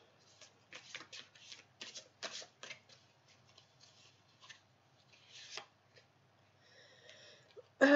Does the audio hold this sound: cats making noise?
no